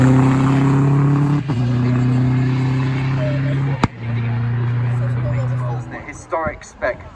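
A 2-litre Ford Escort rally car in WRX spec races along a stage, its loud engine holding a steady drone with a sharp bang and a brief dip before fading near the end, while a commentator talks over it throughout.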